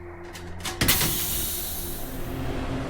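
A door in a video game slides open with a short burst of clunks followed by a long, loud pneumatic hiss that holds steady over a low electrical hum.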